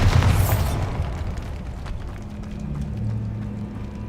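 The Bombarda spell in the video game Hogwarts Legacy bursts in a loud, booming explosion at the start, then its rumble decays into a lingering low roar of debris and ambience for a few seconds with no talk.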